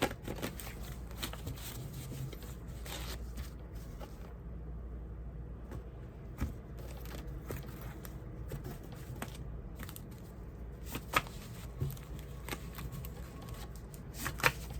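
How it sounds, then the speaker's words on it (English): Soft, crisp riffling and flicking of a deck of cards repeats in quick bursts, close and fairly quiet, with occasional sharper snaps. "Let me get a good shuffle in."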